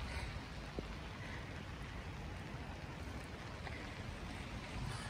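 Steady rain falls outdoors on a dark evening in Cardiff, a dense, even hiss of drops with no break, close around and fairly quiet, with no talking.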